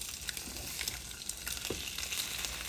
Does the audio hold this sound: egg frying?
yes